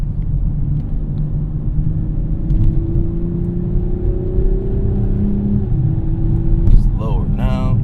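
A Toyota GR Supra accelerates on the road, a steady engine drone whose pitch climbs gradually under a constant rumble, with a brief sharper sound near the end.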